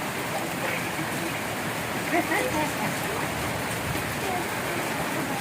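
Rain falls steadily with a continuous wet hiss and patter that stays even and moderately loud, with faint voices now and then under the downpour.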